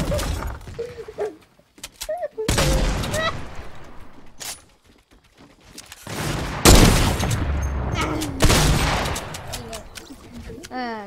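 Fortnite gunshots crack out in several sharp separate bursts between stretches of quieter play, loud and close, with voices talking over parts of the action.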